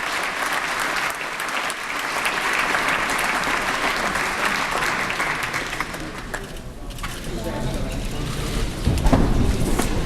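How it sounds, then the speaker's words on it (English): A chamber audience applauds Governor Brown as he leaves, a sustained dense clapping that fades slightly toward the end with a brief louder swell. "Everyone, let's give Governor Brown a round of applause as he exits the chamber."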